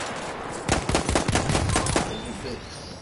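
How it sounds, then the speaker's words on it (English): Rapid automatic gunfire in the video game Battlefield 1, a loud burst of closely spaced shots aimed at the player, lasting about a second and a half and then trailing off, with no talk over it. "Oh, I'm getting shot at."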